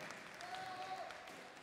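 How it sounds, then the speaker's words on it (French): Studio audience at Cuisines en Scènes 2015 applauding a cooking duo, Jonathan and Stéphane; faint, distant steady clapping with a brief tonal whistle in the middle. "Applaudissements s'il vous plaît pour ce couple"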